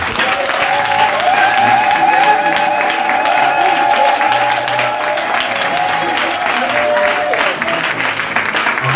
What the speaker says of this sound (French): je veux que tu te tiennes debout et que tu donnes un tonnerre d'acclamation au roi